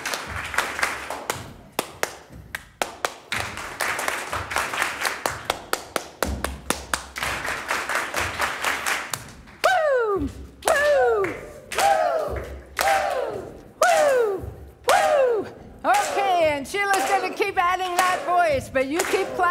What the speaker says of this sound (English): But you keep clapping and stomping.